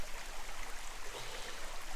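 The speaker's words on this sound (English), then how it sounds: "we've made it across the little river" A small river in the Lomond Hills flowing at a faint, steady murmur, a soft continuous wash of water with no voices.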